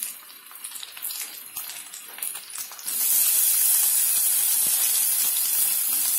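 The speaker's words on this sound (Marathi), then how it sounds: "आता कांद्याला छान परतून घ्यायचं." Chopped onion sautéing in a pan with ginger and garlic for egg masala, a soft sizzle that suddenly swells into a loud, steady hiss about halfway through.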